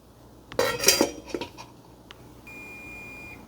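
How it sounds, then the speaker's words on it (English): Kitchen clatter of dishes and cutlery near the stove while making Camembert-style cheese, followed by a kitchen timer sounding a steady, continuous electronic beep that holds for about a second, close and alone. "my timer just went off"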